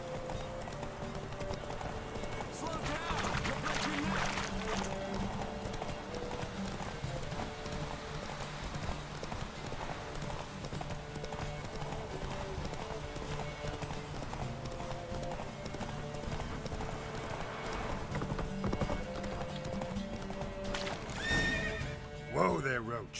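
Roach, the horse from The Witcher 3, gallops with rapid, continuous hoofbeats and neighs amid in-game music, ending with a louder whinny near the close.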